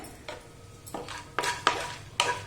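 A spoon scrapes and clatters around a pan of almonds and cashews roasting for rava laddu, several uneven strokes with soft rattling of the nuts, close and moderately loud, with no talking.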